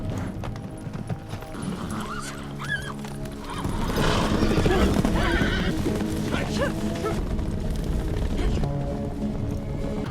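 A large herd of war horses, with loud neighing and whinnying over busy hoof clip-clop that swells into a dense, near galloping mass after the first few seconds, set against a low musical score.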